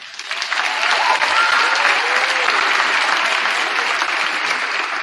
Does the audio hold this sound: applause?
yes